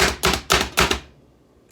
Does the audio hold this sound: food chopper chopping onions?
yes